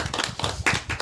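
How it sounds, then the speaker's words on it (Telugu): A group claps for game winners: a short burst of quick, irregular hand claps, close and fairly loud, with no talking. "క్లాప్స్ కొట్టిండండి అంతా"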